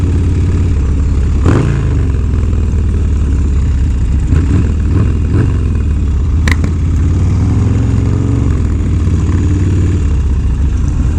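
A Harley-Davidson Dyna motorcycle engine running while riding, a loud continuous low rumble with slight rises and falls in pitch, close up, with a couple of brief knocks over the drone.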